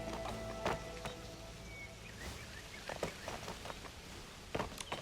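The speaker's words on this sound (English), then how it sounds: "Plops of raindrops are so nice to fall asleep to." Raindrops patter softly in a video game, Infinity Nikki, with scattered brief plops over a faint steady background hiss; a few louder drips stand out near the start and end.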